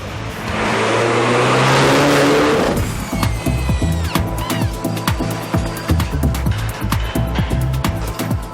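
A Mini John Cooper Works coupe engine accelerating, opening with a loud rushing sweep, then a close, throbbing engine that revs hard in quick, repeated pulses.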